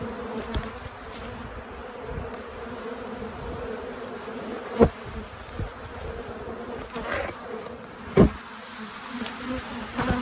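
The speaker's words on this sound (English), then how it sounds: "Those bees are boiling out of the box." Dense, steady buzzing of many bees boiling out of an expanding hive box close by, a continuous drone with occasional louder passes of individual insects near the listener.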